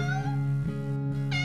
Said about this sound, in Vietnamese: Một con mèo hoang.